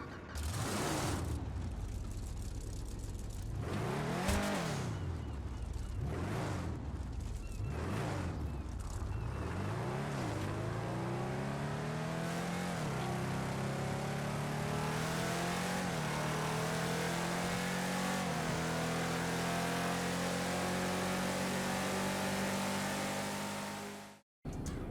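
A Drift Hamper car in GTA Online revs hard through repeated rising and falling engine sweeps, then holds a long climbing whine with tire squeal, loud and close, ending abruptly.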